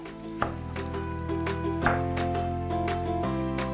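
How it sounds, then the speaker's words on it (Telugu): A knife cuts a potato into wedges on a board for a ginger vegetable stir fry, a few soft thuds spaced out over steady background music, no talking. "ఈ విధంగా ముక్కలు కట్ చేసుకుంటాం"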